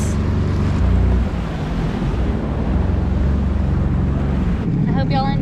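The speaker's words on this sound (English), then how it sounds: "Oh, this is a big old wave." A Sea-Doo Spark Trixx personal watercraft rides over big ocean waves, with a loud, continuous roar of engine, wind buffeting and rushing water, and a voice briefly heard near the end.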